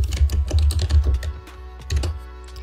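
Computer keyboard typing during a Pear Deck lesson in Google Slides, with a quick run of clicky keystrokes that pauses briefly, then resumes, close and fairly loud with no talking.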